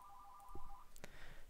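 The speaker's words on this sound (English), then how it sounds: "Dang, phone just started ringing." A phone ringtone chimes quietly in the background of a Hunger Games gaming session, a short repeating electronic tone followed by a few soft clicks and muffled noises, with no talking.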